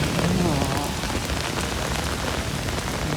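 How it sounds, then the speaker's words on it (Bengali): Dense, steady rain pours down hard beside a railway line, a continuous hiss of drops striking surfaces with no voices. "কি পরিমাণে বৃষ্টি হচ্ছে।"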